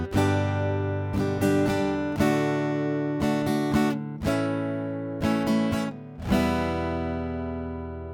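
Rhythm guitar plays a steady strumming pattern of ringing chords, with sharp repeated strum attacks in regular groups and sustained chords ringing between them, clear and close with no talk.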